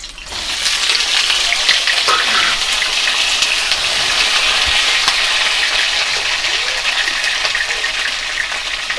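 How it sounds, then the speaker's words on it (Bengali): Pointed gourds (potol), slit on two sides, frying in oil in a wok, giving a steady, loud broadband sizzle that starts with a burst as they go in and continues evenly with no talk. "এবার আমি কড়াইয়ের তেলের মধ্যে পটলগুলোকে দিয়ে দিচ্ছি।"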